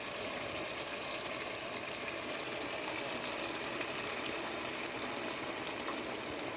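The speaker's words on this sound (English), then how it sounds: "But before I do so, I'm gonna put a little bit of water." Water is poured into a pan with fish fillets for Jamaican-style steamed fish, a soft, faint, continuous hiss and trickle close by with no talking.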